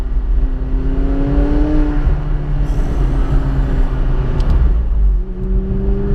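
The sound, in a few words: McLaren 570S Spider engine with rear window down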